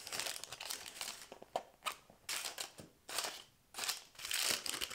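A paper receipt is crumpled by hand from a crossbody handbag, producing close, loud crinkling bursts in irregular waves for several seconds, with no speech.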